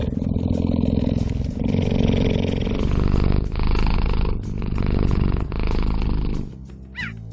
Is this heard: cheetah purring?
yes